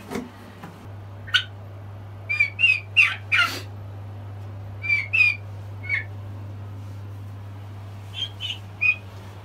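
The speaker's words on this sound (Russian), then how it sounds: "Так, птица пока еще маленькая" Young chickens in a new coop give scattered high, thin peeps, some in quick clusters and some alone, over a constant low electrical hum with no talking.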